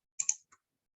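Two quick computer mouse clicks close together, then a third lighter click, crisp and near, with silence around them during Java and Selenium setup in an IDE.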